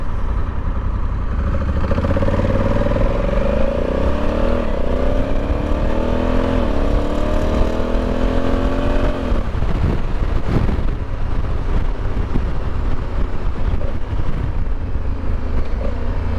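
A Honda Africa Twin DCT motorcycle accelerates hard in Sport 2 mode toward about 60, its engine note climbing through several held gears with quick shifts, loud and close under steady heavy wind roar.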